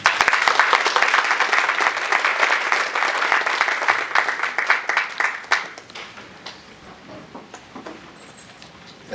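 An audience at an award ceremony applauds as a speaker comes to the podium, dense clapping from many hands that fades into a few scattered claps and then near silence.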